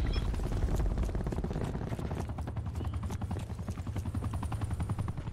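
Attack helicopter in Call of Duty Black Ops 4 multiplayer, a steady loud rotor chop running throughout amid a dense mix of rapid gunfire and in-game battle noise.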